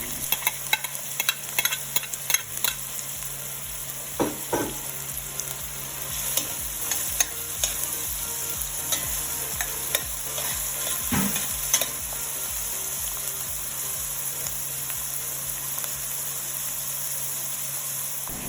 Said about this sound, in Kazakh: Қызғаннан кейін пиязды салып, міндетті түрде күйіп кетпес үшін араластырып тұру керек.